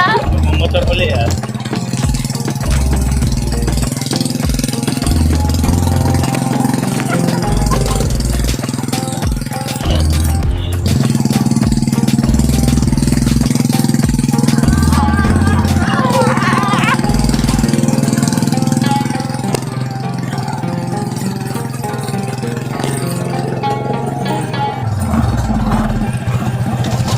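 A motorcycle engine runs steadily and loudly on a rural farm road in Eastern Samar, a continuous low drone holding for the whole stretch with speech mixed in over it.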